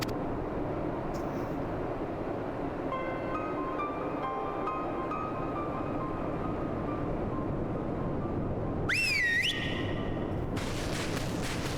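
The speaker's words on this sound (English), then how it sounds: "Whistle sound effect." A short rising whistle effect from the Final Fantasy XIV: Stormblood game, sounding near the end over a steady ambient game soundtrack.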